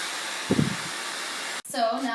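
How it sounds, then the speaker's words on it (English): A hair dryer blows steadily for most of the clip while hair is smoothed and set into a tucked bend, a continuous airy roar under a brief soft rustle, before it cuts off and a voice begins. "So now I've gone through and finished my blow dry."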